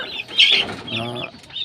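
Fighting cocks and breeding hens clucking close by in a short burst of sharp, rapid calls, with a brief louder squawk near the start and no speech.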